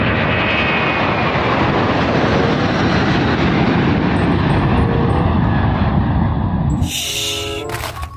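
An Airbus A330 airliner in flight gives a loud, steady, broadband engine roar that holds for most of the stretch, then shifts character near the end.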